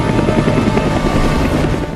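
Helicopter in a Mission: Impossible film, a loud, close, steady rotor chop with dense whining engine noise, continuous throughout.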